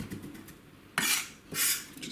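A kitchen knife rocks and scrapes through garlic on a chopping board in two loud, separate bursts of mincing, with no talk.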